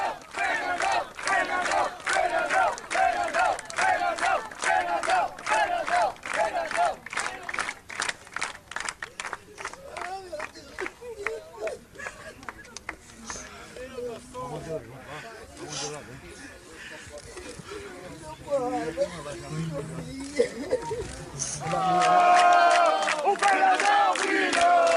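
A large crowd of Goiás football supporters chants in unison as a farewell tribute to their idol Fernandão at his burial, a loud rhythmic mass of voices with pulsing claps, the chant swelling again near the end.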